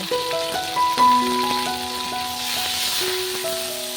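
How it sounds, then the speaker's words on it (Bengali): Cauliflower frying in a wok with turmeric and salt gives a steady, crackling hiss of oil throughout, with sustained musical tones layered on top. "এখানে আমি সামান্য পরিমাণে হলুদ আর নুন দিয়ে ভালো করে নেড়ে চেড়ে ফুলকপিটাকে লাল লাল করে ভেজে নেব"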